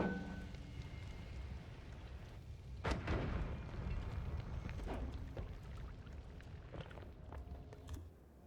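A bomb blasts in a wizard video game with one deep, booming explosion near the middle. A rumbling tail follows, then fainter crackling debris over a low background roar.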